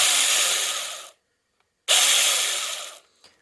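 A small battery-powered mini chainsaw for pruning garden trees whirs loudly in two bursts, about a second each with a brief pause between, then winds down.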